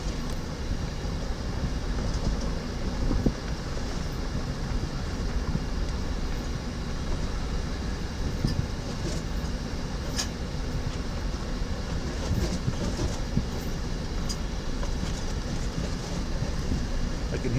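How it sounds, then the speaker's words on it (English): Continuous rough scraping and rumbling under a moving minivan as creosote bushes drag along its underside on desert land in Hudspeth County, Texas, with occasional sharper scratches throughout. "I can hear the creosote rubbing the bottom of the minivan here."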